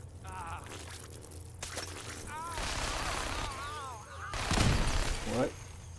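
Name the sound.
gunfire from Fallout 4 video game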